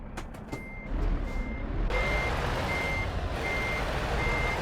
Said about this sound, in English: Pretty certain I can reverse this Scania at 30k